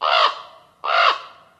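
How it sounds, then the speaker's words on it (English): A raven call from the video game Legend of Zelda: Breath of the Wild gives two loud, harsh caws about a second apart, each trailing off, with no other sound. "this is the sound of a raven"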